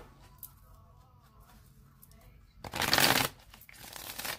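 Quiet handling noises, then a short, crisp riffle of tarot cards being shuffled, followed by softer rustling.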